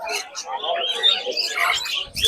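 Small birds chirp and tweet in quick, overlapping bursts at a busy outdoor bird market, close and fairly loud, with some background voices mixed in.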